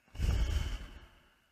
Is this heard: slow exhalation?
yes